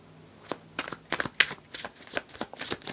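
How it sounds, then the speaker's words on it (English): A deck of shamanic healing oracle cards is shuffled by hand, close and quiet, as a quick uneven run of soft papery flicks and taps with short gaps and no talking. "so I'm going to pull 2 cards"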